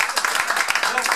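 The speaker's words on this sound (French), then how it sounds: "Applaudissez." An audience at an association gathering applauds in a dense, steady burst of clapping, with voices talking faintly underneath.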